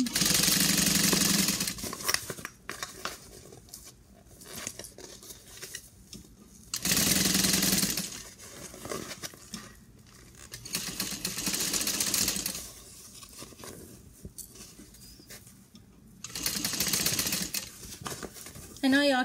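A sewing machine stitches a handbag lining in bursts of steady whirring, each lasting a few seconds, separated by quieter pauses and handling noise.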